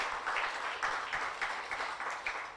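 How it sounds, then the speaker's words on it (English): Applause from an awards ceremony audience in Dar es Salaam, Tanzania, a faint, steady patter of many hands clapping at a distance, with no voices over it. "Let's give him another round of applause."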